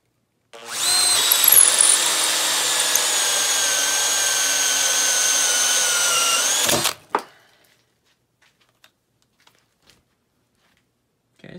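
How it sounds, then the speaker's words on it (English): A Makita XPH10 brushed cordless drill in drill mode drives a hole saw into 3/4 inch plywood: one loud, steady whine for about six seconds, then a quick stop and a few faint knocks in near silence. "We'll start with the XPH10, the brushed drill, with a hole saw into some 3/4 inch plywood."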